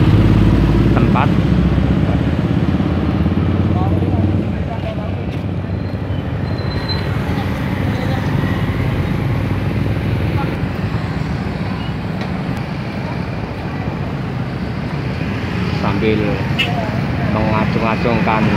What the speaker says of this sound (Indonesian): kendaraan yang mengantar santri baru saja meninggalkan tempat